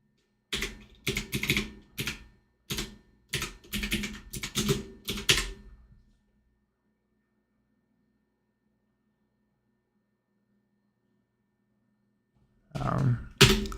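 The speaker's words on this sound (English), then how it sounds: "I keep on typing." Quick, clattering bursts of computer keyboard typing come in several short runs, then stop into near silence before another flurry of keystrokes near the end, recorded close up during live severe-weather storm coverage.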